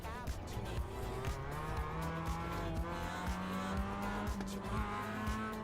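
A Mazda MX-5 in the iRacing simulator slides off the track, its engine droning with a rising pitch while tyres squeal and skid steadily through the whole stretch.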